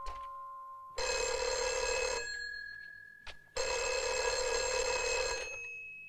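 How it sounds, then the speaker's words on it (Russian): An old-style telephone bell rings in two long, loud bursts with a pause between them, heard alone in a quiet room. "Товарищ капитан, Юрка на проводе."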